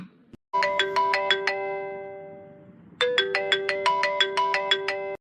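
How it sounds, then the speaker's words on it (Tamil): A mobile phone ringtone plays a bright, melodic repeating pattern of chiming notes, pausing briefly and then starting again, loud and clear with no voices over it. "யார் அது போன் அடிக்குது? எடுத்து பேசுங்க. போன் அடிச்சுட்டே இருக்குல்ல."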